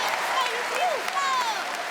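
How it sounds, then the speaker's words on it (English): Basketball crowd applauding in the arena at Dayton, steady broad clapping that fills the hall while a commentator talks over it. "the crowd starting to perk up here in Dayton"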